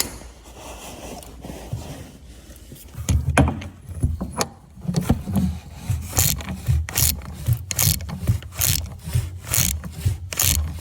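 A ratchet clicks in quick repeated bursts while an oil filter is tightened on a Mini Cooper S F56 during a service, close and loud, with scraping and handling noises before the rhythmic ratcheting starts.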